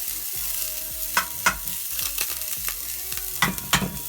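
Onions frying in heated olive oil in a pan, a steady sizzle underneath with several sharp spoon-stirring clatters and scrapes close by, no talking.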